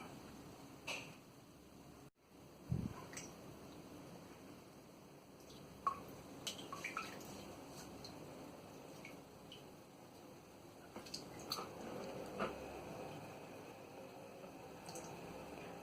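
Wet PCB transfer paper is handled in a water bath, giving faint, scattered drips, small splashes and soft squishy sounds spread over a quiet background, with one brief louder knock early on.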